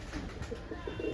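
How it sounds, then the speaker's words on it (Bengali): Domestic pigeons coo nearby, a soft, low, rolling call that repeats a few times in quick succession, faint but clear against a quiet background. "খুবই সুন্দর কোয়ালিটির অ্যাক্টিভ পায়রা আছে, ফ্রেশ।"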